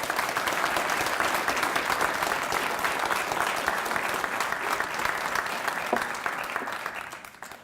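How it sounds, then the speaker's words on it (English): A group of students applauds at length, a dense, sustained wash of many hands clapping together that holds steady before tapering off near the end. "give yourself a round of applause for you as a group of students"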